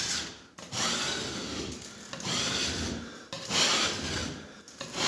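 A large scraper rasps across a popcorn and drywall mud textured ceiling in repeated long, loud, close scraping strokes, each separated by a short pause.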